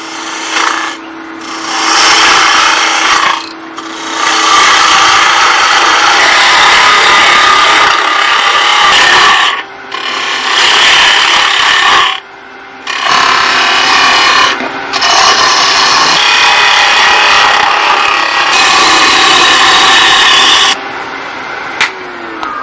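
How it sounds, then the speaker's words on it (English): A half-inch spindle gouge cuts and shapes a piece of wood for a wood-burning decoration, making loud, steady rasping scrapes in long bursts with brief pauses between passes. "This is a 1/2 inch spindle gouge."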